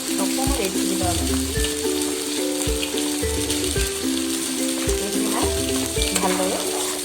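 Spices for a fish curry with potato and tomato fry loudly in a pan, with a dense steady sizzle and repeated scraping stirs in an uneven rhythm, close by.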